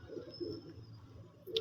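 Pigeons coo in short, low, soft bursts at a loft in Faisalabad, with a faint steady background and a brief higher chirp at the very end; no one speaks.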